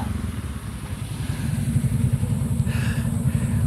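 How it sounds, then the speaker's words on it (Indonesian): A group of motorcycles rides past on a road toward a mountain trail, their engines forming a loud, continuous rumbling drone that swells slightly as they pass close by. "Orang-orang pada naik motor rombongan."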